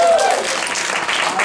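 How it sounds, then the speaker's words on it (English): A crowd claps in steady applause, fairly loud and close, with a voice speaking over it at the start. "Let's give Garrett another big round of"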